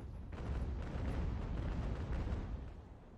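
Cannon fire from sailing warships during a naval battle in the game Ultimate Admiral Age of Sail, heard as a continuous low, rumbling roar of overlapping booms that holds steady and loud throughout.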